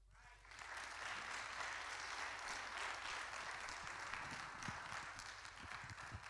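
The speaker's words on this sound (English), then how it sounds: "Can we give Naomi a better hand clap than that?" A community forum audience claps together, soft and steady. The applause swells quickly and holds for several seconds at a modest distance, with occasional sharper individual claps standing out.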